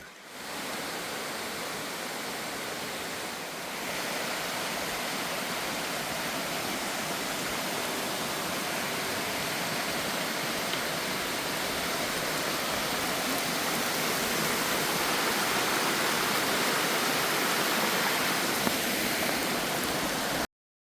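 Heavy rain on a mountain trail in the Smokies pours in a dense, steady hiss that swells slightly louder after the first few seconds and continues without pause.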